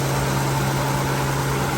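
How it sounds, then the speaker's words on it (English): A 2002 Acura MDX engine idling steadily after a valve replacement, a smooth, even low hum with no variation in level across the whole stretch, close and alone. "Idling so perfect, not even a shake."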